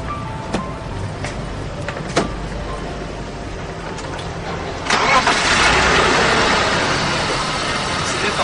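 A daily maintained car engine catches after a few faint clicks and knocks, then settles into a steady, close, even running hum that holds to the end.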